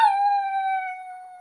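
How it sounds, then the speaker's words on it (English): A dog howls in one long, steady, clear tone, close and loud, lasting over a second and slowly falling off at the end, with no other sounds around it. "She howls at the moon."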